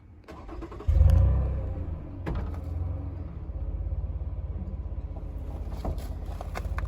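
A vehicle engine cranks and fires into life near by with a loud rev, settles, then idles and pulls away with a steady low rumble, and there is no talking.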